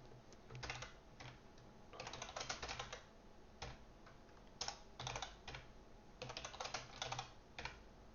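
Fast bursts of typing on a computer keyboard, rapid clustered keystrokes with short pauses between runs, close and fairly quiet, no talking.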